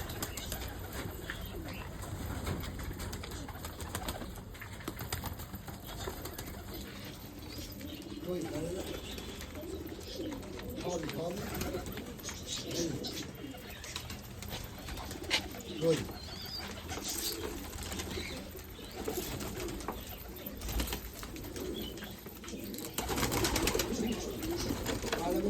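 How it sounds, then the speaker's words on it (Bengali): Pigeons on a home rooftop, with soft intermittent cooing and occasional wing flaps heard at moderate distance beneath steady background noise and some talking. "আজকে আমার বাড়ির ছাদে নতুন একটা পায়রা এসে বসেছে"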